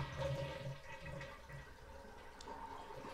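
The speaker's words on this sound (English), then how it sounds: "And now we're going to flush the toilet." A toilet flushes after its water supply has been shut off, during a repair of a leak at the flapper. Water rushes steadily and at moderate volume for about three seconds, with no voices.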